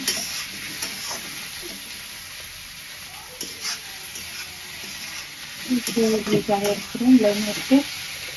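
Cumin powder and bay leaves sizzle in a frying pan, a steady low crackle that gets busier and louder near the end, with a few soft bumps of the pan.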